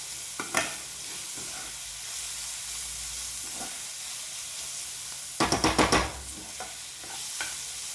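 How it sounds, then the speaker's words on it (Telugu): An egg fried rice mixture sizzles steadily in a hot pan while a spoon stirs it, giving a short scraping burst early and a louder cluster of rapid scrapes later, close and clear without speech. "చక్కగా ఇదంతా మొత్తం కలిసేటట్టుగా కలుపుకొని ఒక 1/2 మినిట్ వేగనిద్దాము."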